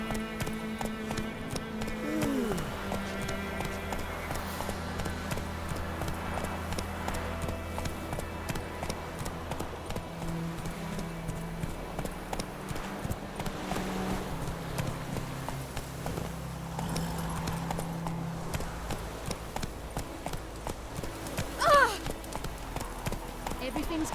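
The horse Roach in The Witcher 3 gallops with a steady drumming of hooves, then slows, while voices talk over the hoofbeats.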